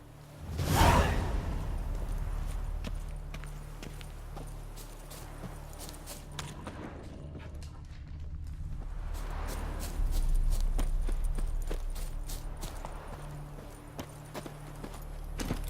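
Horse hooves trotting in the video game The Witcher 3, a steady clip-clop rhythm with whooshing movement over a low rumble, fairly close and without talk.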